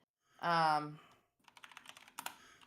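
A loud computer keyboard clatters in quick, uneven bursts of sharp keystrokes close to the microphone, preceded by a short harmonic vocal sound.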